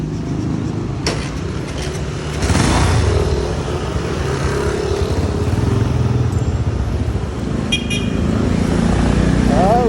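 A motorcycle passes on a street near a home, its engine rising and swelling in the middle and tail of the stretch amid other traffic and a brief horn toot, with people talking nearby.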